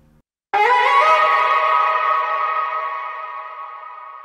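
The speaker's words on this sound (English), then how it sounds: "So we have a ton of reverb. It's super, super wet." A single synth note or chord is struck and then rings out through a heavy, very wet reverb with a decay of about seven seconds, fading slowly and still sounding at the end.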